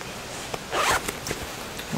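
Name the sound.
invisible zipper on a skirt being pulled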